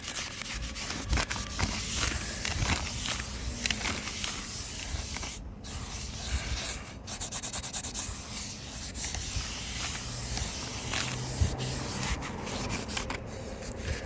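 An old sock used as a rag wipes the brake parts of a Peugeot 207 during a disc and pad replacement, giving a steady, close rubbing and scuffing texture that runs without pause and without talk.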